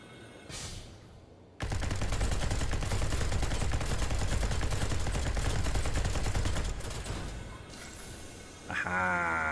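Video game enemy opening fire, a sustained loud burst of rapid gunfire lasting several seconds after a short lull, then tapering off into quieter game sounds.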